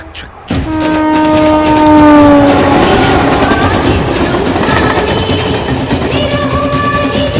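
A train horn sounds loudly at the start, then a moving train runs on with steady rolling rail clatter and engine rumble, close and unbroken, with no talk over it.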